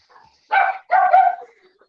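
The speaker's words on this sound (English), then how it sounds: "we don't want to hear your funky dogs" Two loud close dog barks in quick succession, with a faint yip before them and a soft whine trailing after, and no talk over them.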